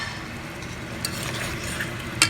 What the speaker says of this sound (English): It is sizzling and bubbling.